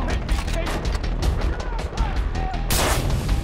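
Gunfire crackles through a chaotic firefight in the video game Far Cry 3, with dense, continuous shots and bursts close by and a louder blast near the end, while a voice talks throughout.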